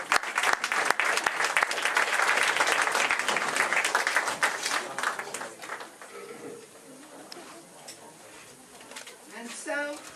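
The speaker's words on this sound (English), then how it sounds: "Let's have a round of applause" Audience applause for guests at a school radio drama class production, loud sustained clapping that fades over several seconds, with faint voices and some higher chirping sounds near the end.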